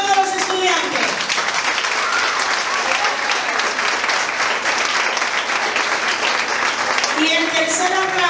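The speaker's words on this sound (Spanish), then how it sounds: "El segundo aplauso es para los participantes, todos los estudiantes." An audience at a Bible olympiad awards ceremony applauds the participating students, a loud, dense, sustained round of clapping that fills the whole stretch, with faint voices at the start and end.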